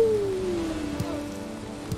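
Steady rain falls in the video game Valheim during a walk while pulling a heavy cart, a soft constant patter with a few louder drops.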